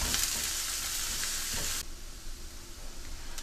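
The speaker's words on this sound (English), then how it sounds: "We're gonna cook garlic and shallots until the shallot gets soft" Garlic and shallots frying in a pan for chicken pad thai, giving a loud, close, dense sizzle that softens partway through and then carries on at a lower level.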